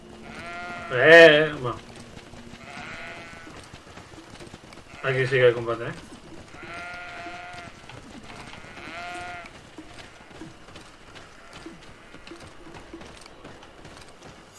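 A sheep or goat bleating in the fantasy video game GreedFall: two loud, wavering bleats about four seconds apart, each standing clear above a quieter game soundscape, with someone talking over the scene.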